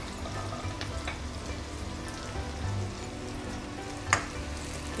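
Garlic and ginger sizzle steadily in hot oil in a pan for baghare baingan, a dense, even crackle close by with scattered pops and one sharper spatter near the end, no voices.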